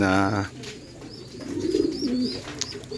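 Pigeons cooing softly in a loft, low burbling calls close by with a few higher chirps, following a brief voice at the start.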